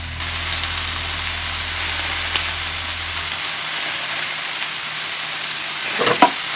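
Vegetables stir-fried with salt in a pan give a steady, close sizzling hiss throughout, with a soft scrape of stirring near the end.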